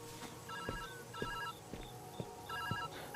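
An old-style electronic telephone trills over an ambient music bed in the puzzle video game Viewfinder. The trill comes in repeated short bursts, moderately loud, with no voices over it.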